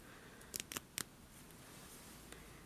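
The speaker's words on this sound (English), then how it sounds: "we're going to take our trusty seam ripper and rip out this center back seam" A seam ripper cuts out the center back seam of a dress, a few quick, crisp snips and thread pops in a cluster, faint and close in a quiet room.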